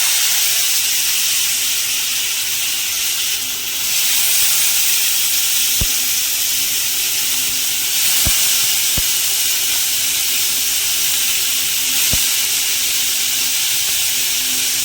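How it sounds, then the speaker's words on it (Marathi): Turmeric and a little cumin sautéing in hot oil for a Maharashtrian val bhirde dish give off a steady, close hiss and sizzle, with a few sharp clicks of a spoon stirring against the pan. "आता हे हळद टाकल्यानंतर आपल्याला हे हळद आणि तेलामध्ये थोडंसं वापून घ्यायचं आहे"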